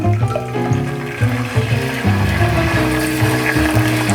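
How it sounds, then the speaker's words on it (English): Tomato juice poured into a pan of frying garlic for a classic spaghetti sauce, a loud close liquid rush with a bubbling, gurgling texture that runs continuously throughout. "we will give it a little of the tomato juice to arrest the garlic frying"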